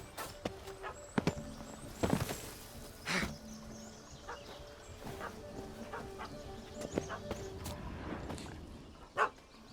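In The Witcher 3, a dog barks in short, scattered yaps amid faint ambient game sounds and footsteps, fairly quiet and at moderate distance.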